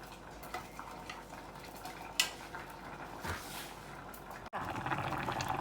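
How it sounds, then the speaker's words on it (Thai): A pot of Thai pumpkin and wild mushroom curry bubbles on the stove with gurgling liquid, then a clink of utensils against the pot and a louder, busier simmer near the end. No one speaks. "หม้อเดือดแล้วฟักทองเราก็สุกแล้ว"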